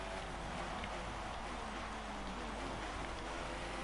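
Heavy rain pours down steadily in an F1 racing game at the Circuit de Barcelona-Catalunya during the Spanish Grand Prix, a dense continuous hiss of downpour with a low engine-like rumble underneath and no pauses.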